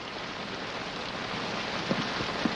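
Steady rain hisses in a constant wash, with a couple of faint knocks near the end.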